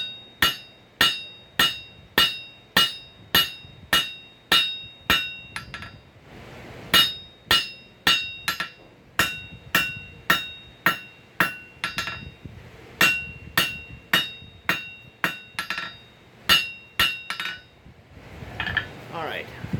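Hammer blows forging hot steel into pick up tongs, a steady run of sharp ringing strikes in quick rhythm with brief pauses, close and loud, with faint talk in the background.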